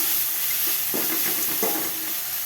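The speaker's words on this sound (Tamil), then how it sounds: "லேசாக வதக்கி" Gooseberries being sautéed in a pan with asafoetida for a gooseberry yogurt pachadi give a steady hiss and sizzle with a couple of stirring scrapes, close and moderately loud, with no talking.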